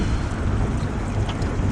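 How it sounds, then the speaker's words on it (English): Steady, loud wind roars across a small fishing boat out on the water off Perth, a dense buffeting rush with low rumble and no voices. "The wind has picked up."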